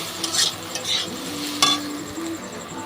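Sliced teasel gourd and potato fry with onion and a little chili powder, a soft steady sizzle broken by a few scraping stirs of a utensil in the pan.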